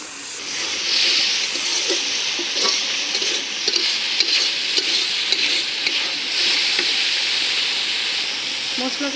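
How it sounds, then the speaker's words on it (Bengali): Ground spices sizzle loudly in a hot oiled pan while being stirred, a constant close hiss with repeated scraping clicks of the spatula throughout. "মশলা কষাই নিলাম।"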